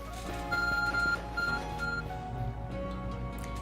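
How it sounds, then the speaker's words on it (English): In the Pokemon Legends: Arceus game, the ARC phone gives off a few short electronic beeps and tones that ring over a steady musical game backdrop, close and clear. "Your ARC phone is beeping."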